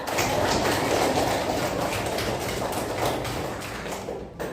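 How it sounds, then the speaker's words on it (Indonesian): A classroom full of students claps steadily and densely, a close, continuous burst of applause that fades toward the end. "kita beri aplaus pada Mbak Farah"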